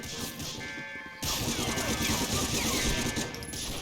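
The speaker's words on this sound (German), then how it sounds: "Ich habe nur geschossen!" Dense gunfire crackles in the PlayStation 2 game Medal of Honor: Frontline, a sharp crash opening onto a steady, noisy barrage of shots and impacts that continues without a break.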